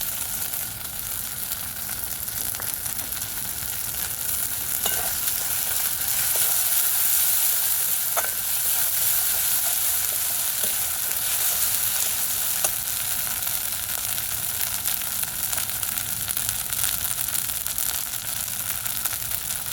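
Ginger-garlic paste sizzles steadily in hot oil for a fish curry with potato and eggplant, a continuous close hiss with a few faint clicks and spatters, no talking.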